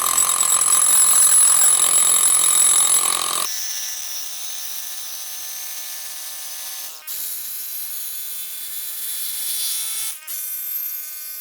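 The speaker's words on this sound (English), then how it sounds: "And we're gonna use one of these grounding rod drivers on it." A grounding rod driver hammers an 8 foot ground rod into the earth, giving a loud, continuous rapid mechanical rattle that shifts pitch partway through and falters briefly twice.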